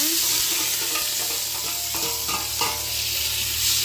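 Tomato, onion and green chili frying in heated oil for pulao, a loud, dense, close sizzle with constant stirring scrapes throughout and no speech.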